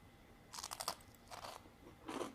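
Crunchy chewing of a goat cheese holiday snack, three close bursts of crisp crunching with brief pauses between bites.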